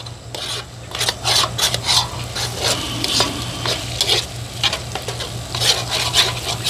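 A spoon scraping and stirring whole milk through a hot pan, deglazing the bottom, with repeated rhythmic rasping strokes over a soft sizzle, close and clear, with no talking.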